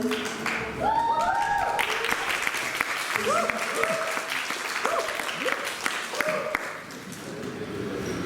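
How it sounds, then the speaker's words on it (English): A crowd at a business forum gives sustained, dense applause throughout, with a voice speaking over the clapping. "Come on, Samit, please give him a big round of applause"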